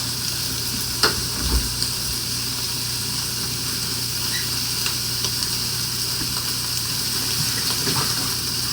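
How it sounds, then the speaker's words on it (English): Pork steak fat trimmings render in a hot skillet with a loud, unbroken, close-up sizzle and hiss, dotted with a few small pops and spatters. "I really just want to render down this fat. So my skillet is hot."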